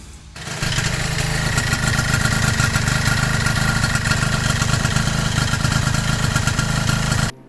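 Rebuilt Honda Aero scooter engine starting and then idling steadily, a close, continuous buzzing putter that holds even for several seconds before cutting off.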